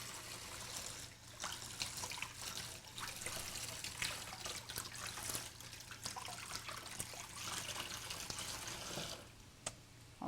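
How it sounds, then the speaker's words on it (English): Cold tap water rinsing homemade hot dogs, a steady faint trickle and splash with small drips and handling noises, no voices. "I'm just going to rinse them under cold water."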